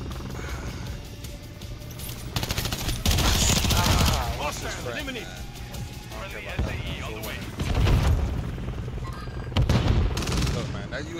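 Video game gunfire crackles in rapid bursts and volleys, loud and repeated, with heavy booms and a player talking throughout.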